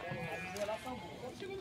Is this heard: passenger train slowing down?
no